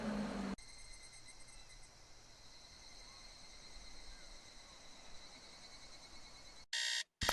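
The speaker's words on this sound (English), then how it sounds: "it's Japan with all the cicadas out there" A steady high-pitched insect drone of cicadas in Japan fills the background, heard from a distance, with brief electronic beeps near the start and end.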